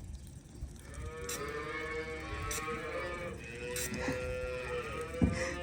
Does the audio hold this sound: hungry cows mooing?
yes